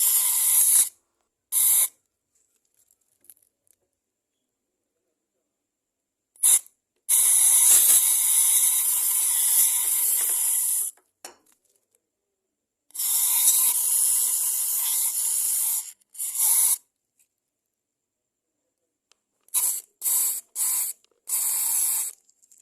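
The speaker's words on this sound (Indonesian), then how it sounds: "ini kita semprotkan juga pada bagian headnya ya, lubang in. Kita semprotkan sampai merata aja ya" Carbon cleaner sprayed onto the cylinder head of a Honda Vario 125 scooter, close up, in a series of short bursts and longer sustained hissing sprays separated by silent pauses, with no talking.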